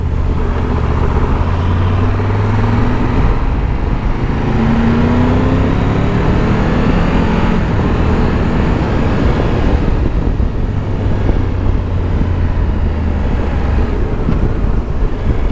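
A Triumph Tiger 1200 GT Pro three-cylinder motorcycle runs at speed with a steady, loud engine drone, and heavy wind rush across the microphone rises and falls as it rides.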